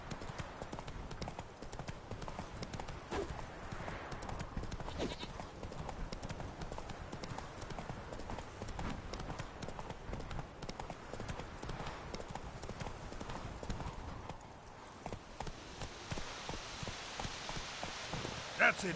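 Roach the horse galloping in a video game, a rapid continuous patter of hoofbeats over rain-like background noise, steady throughout.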